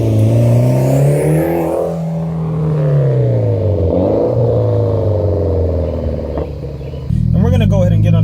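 A 2014 Mitsubishi Lancer Evolution MR pulls out onto the road, its engine droning loudly and close as it revs up and settles through shifts, with a sharper rise near the end.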